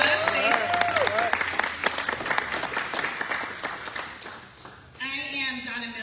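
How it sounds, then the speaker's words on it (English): Applause from a crowd at a press conference, sustained clapping for several seconds that fades, then a voice begins speaking near the end. "Let's give you a round of applause."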